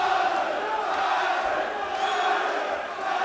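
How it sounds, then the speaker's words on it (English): Crowd noise at a ROAR Combat League 7 fight night, a steady loud roar of cheering and shouting with no break, full and close throughout. "Listen to that crowd, Charlie."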